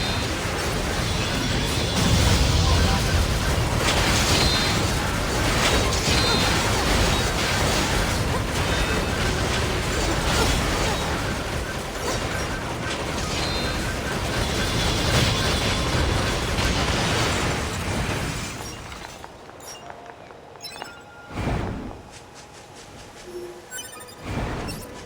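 Combat against enemy machines in NieR: Automata brings dense, loud crashing, explosions and metallic clatter for about eighteen seconds, then it dies down to sparse impacts and quieter sounds.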